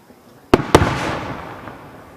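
Two sharp, loud firework bursts go off in quick succession at a county fireworks display, each boom followed by a long rumbling decay and a faint later crackle.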